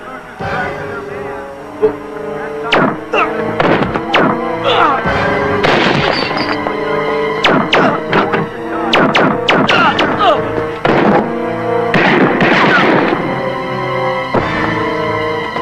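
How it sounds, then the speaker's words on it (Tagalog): A series of sharp, loud gunshots in uneven bursts, several shots close together, with voices talking over and between them in a Filipino action film. "Putok ng baril yun ah!"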